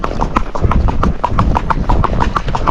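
Hooves of a Rocky Mountain gaited horse trot in a steady, even clip-clop rhythm, close and fairly loud over soft outdoor rumble, with the footfall pattern shifting slightly as the rider half-halts.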